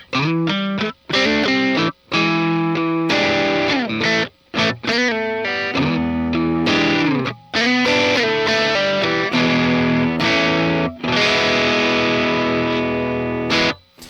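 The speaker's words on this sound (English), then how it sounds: "Now here's a Tube 808 drive." A loud electric guitar through a Tube 808 overdrive pedal plays chords and riffs with a warm, gritty crunch, brief pauses between phrases and long ringing sustain.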